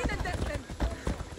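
Horse hooves clop in Assassin's Creed Odyssey, a rapid uneven drumming of footfalls close by, mixed with game ambience.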